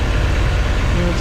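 A cold 1959 Chevrolet Bel Air engine idles with a steady, close, loud low rumble, heard briefly with no other sound on top.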